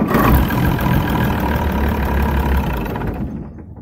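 A truck engine, just fitted with a replacement starter motor, runs at a steady idle with a loud, low diesel rumble, then dies away and fades out near the end.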